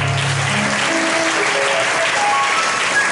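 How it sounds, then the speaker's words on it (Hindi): A church congregation applauds loudly and continuously, a dense wash of clapping with a few faint tonal sounds threaded through it. "जीसस, जोरदार ताली बजाएंगे।"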